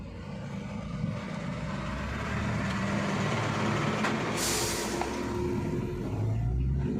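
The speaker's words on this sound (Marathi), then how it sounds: "ट्रकला टर्निंग खूप अवघड चाललेलं आहे." A truck labouring round a steep, sharp turn on a ghat road, a loud continuous low engine rumble close by with a brief air brake hiss midway.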